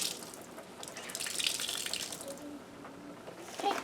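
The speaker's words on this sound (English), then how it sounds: "So you can see here I'm just kind of gently squeezing out the water." Water squeezed by hand out of a wet handwoven merino wrap over a sink, a steady close splashing trickle with a few drips, no talking.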